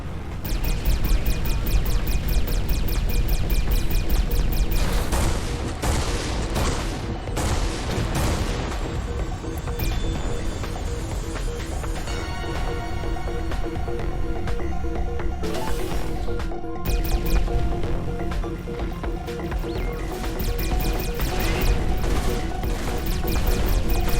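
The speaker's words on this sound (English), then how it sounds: "We're under fire." A spaceship under sustained fire in Everspace 2, with dense, continuous booming impacts, crashes and rapid gunfire blasts layered over a steady loud roar for the whole stretch.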